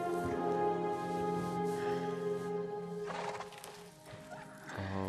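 A horse in a fantasy epic film whinnies and neighs over steady clip-clopping hooves, set against a swelling orchestral score, loud and close with no talk.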